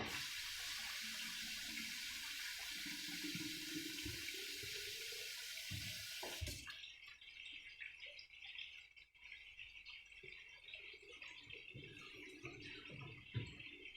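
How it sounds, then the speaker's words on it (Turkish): Water is poured into a pot of pilaf rice while cooking an iftar meal, a steady close splashing stream that cuts off about halfway, followed by quieter kitchen clatter and faint background chirps. "pilavımın suyunu ilave ettim"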